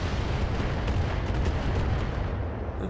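Heavy rumbling explosion as an enemy Vindicator mech is destroyed in the BattleTech video game, a dense sustained roar filling the whole clip without any voices.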